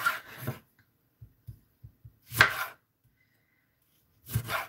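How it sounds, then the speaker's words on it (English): A knife cuts through a tomato on a board, giving a series of short, soft chopping taps with quiet gaps between them, while a few louder bursts of handling sound come before and after. "So for the tomato, I'm going to be cutting the tomato."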